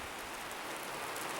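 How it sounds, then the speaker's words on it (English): Rain falling at an off-grid desert homestead, a steady even hiss of drops on surfaces with no gutters in place, constant and fairly soft, no one speaking. "it's actually raining and I don't have my rain gutters and my roof system all set up"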